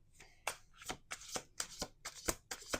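Tarot cards are shuffled by hand in quick, crisp riffling bursts, about a dozen sharp rustles in rapid rhythm, close and quiet with no talk.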